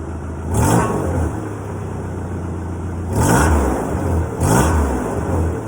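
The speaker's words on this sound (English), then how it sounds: "Here, I can rev it up a little bit and see what happens." A 1990 Ford Ranger pickup engine idles steadily, then is revved in three short bursts that swell and fall back to idle, heard close with no talking.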